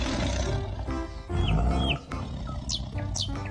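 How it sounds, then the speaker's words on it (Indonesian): A tiger roars loudly and close, a sustained growling roar over a few seconds, with brief high chirping tones overlaid. "Wadidaw, ternyata ini si harimau."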